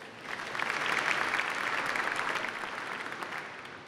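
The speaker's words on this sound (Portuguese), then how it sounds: "Uma salva de palmas." An audience at a formal legislative ceremony awarding the Tiradentes medal breaks into applause, a moderately distant wash of many hands clapping that swells, peaks and then gradually tapers off.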